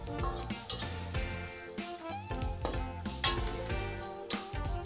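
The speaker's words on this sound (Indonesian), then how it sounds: "Kita goreng sampai layu ya bunda." Shallots, garlic and curly red chili fried in a pan, with sizzling under repeated metallic scrapes and clinks of a utensil stirring against the pan, close up and with no talking.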